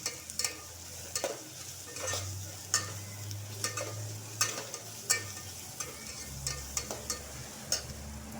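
Ginger and garlic sautéing in a pan, with a low steady sizzle under sharp, regular scrapes of a spoon stirring, close and fairly quiet.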